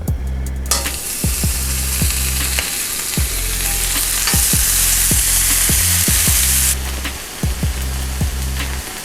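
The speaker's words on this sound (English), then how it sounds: "I'm gonna go ahead and grease our griddle a little more and then add our Canadian bacon on it." Canadian bacon fries on a greased griddle with a loud, continuous sizzle, while a metal spatula taps and scrapes the surface in a rough rhythm throughout.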